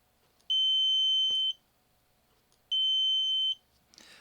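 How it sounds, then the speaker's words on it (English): Two steady high-pitched electronic beeps from an Arduino tilt sensor buzzer, each about a second long, separated by a pause, loud and clear in a quiet room. "when I tilt it, you see the buzzer is running"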